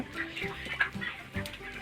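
Broiler chickens on a poultry farm cluck and murmur in a close flock, a steady run of short overlapping calls with a few louder squawks, no talking.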